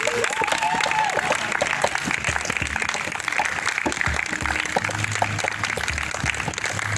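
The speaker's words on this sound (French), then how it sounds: "Est-ce que tu peux offrir des acclamations au Seigneur?" A large church congregation applauds and acclaims during a prayer service, with dense, continuous clapping mixed with cheering voices and shouts in a reverberant hall.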